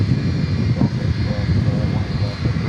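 An Eva Air Cargo Boeing 777 freighter taxiing at Dallas Fort Worth Airport, heard as a steady low engine rumble under continuous spoken commentary.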